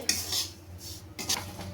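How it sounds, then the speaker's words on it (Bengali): Semolina is toasted in a pan, with a spoon scraping and clinking against the metal in two bursts over a faint, steady sizzle. The sound is close and fairly quiet, and no one speaks. "এখানে সুজিটাকে খুব লাল করে ভাজার দরকার নেই, অল্প একটু ভেজে নিলেই হবে"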